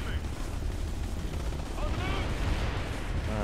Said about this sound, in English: Missile, missile, missile.